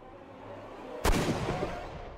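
A single loud gunshot cracks out in the Sherlock Holmes Crimes & Punishments video game over a quiet background, then leaves a reverberating tail that slowly fades away.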